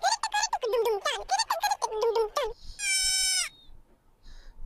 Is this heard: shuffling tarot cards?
no